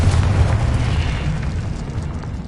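The Confringo explosive spell detonates in Hogwarts Legacy as a loud, close, booming blast with a deep rumble that sustains and slowly fades across the whole moment.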